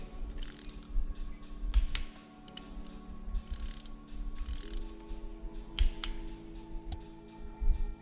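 A torque wrench tightens nuts on a Nissan GTR RB26 cylinder head, giving bursts of close, crisp ratcheting clicks that come in clusters separated by brief pauses, with no one speaking.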